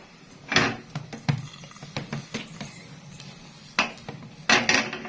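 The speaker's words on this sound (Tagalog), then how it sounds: "Ayan, nilalagyan po natin ng takip." A lid goes onto a cooking pan of frying tocino and longganiza, with a run of close clattering metal knocks and taps spread over several seconds. No voice is heard.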